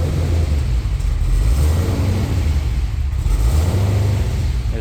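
A twin-turbo Chevrolet Caprice PPV engine, paired with a swapped 6L90E transmission, rumbles loudly and steadily at close range with a low, throbbing surge that rises and falls in waves.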